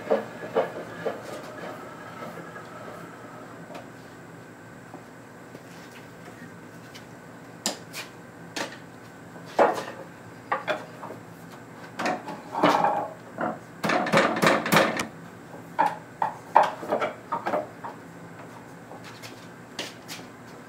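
A wooden leg vise screw with a fast two-turns-per-inch thread is turned and moved, giving irregular wooden knocks, rattles and creaks that come in scattered bursts, busiest midway through.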